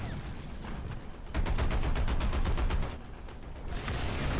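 Automatic anti-aircraft fire from a T17E2, a British tier-1 self-propelled anti-aircraft vehicle in War Thunder: a dense rapid burst lasting about a second and a half, then a few scattered shots against a low rumbling background.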